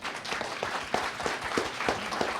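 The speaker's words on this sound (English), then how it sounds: "can we have a quick round of applause for our speakers?" A seated audience at a talk claps for the speakers: a brief, steady patter of many hands at moderate volume with no voices over it.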